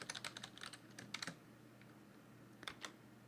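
Quiet, irregular clicking of keys on a computer keyboard, a few quick bursts of typing separated by short pauses, faint and close with a low background hum.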